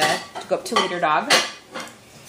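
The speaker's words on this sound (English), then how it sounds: "She's doing some dishes." Dishes and cutlery clink and clatter in a home kitchen in short bursts, partly under a nearby voice talking.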